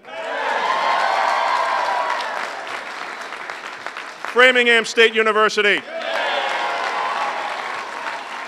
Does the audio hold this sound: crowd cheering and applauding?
yes